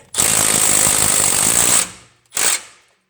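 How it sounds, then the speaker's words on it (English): A Milwaukee 12 volt power tool with an adapter torquing a 22 mm fastener on a 2004–2007 Toyota Highlander front end: a loud, close rattling burst of about 1.7 seconds, then a short second burst after a brief pause. "So now we're just going to torque everything to about 150, and it is a 22 millimeter. Put a little adapter on that Milwaukee 12 volt."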